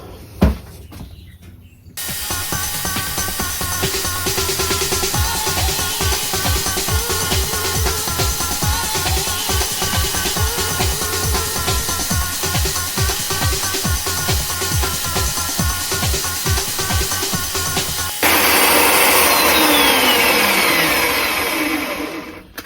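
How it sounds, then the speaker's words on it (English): A power drill whirs steadily as a bolt mounted in its chuck spins an antler slingshot to smooth and polish it, a loud continuous motor drone with a rhythmic rubbing pulse, shifting to a harsher, brighter tone near the end. "maybe run it on the drill"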